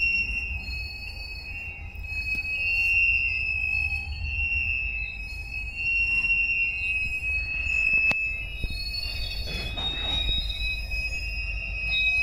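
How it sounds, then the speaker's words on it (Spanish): A freight train with remote locomotives rolls past, giving a loud, continuous rumble with a high, sustained wheel squeal and metallic ringing throughout. "Ahí viene el par de remotas."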